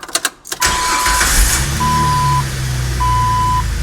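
A car engine cranks and catches after an oil change, with clicks and a brief starter whir giving way to a steady idle, while a repeating electronic warning chime sounds three times over the running engine.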